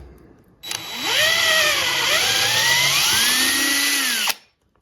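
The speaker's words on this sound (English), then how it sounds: "Let's drill a hole through that." A power drill whines loudly for about four seconds, its pitch rising as it spins up and bites into plywood, boring a hole, then stops abruptly.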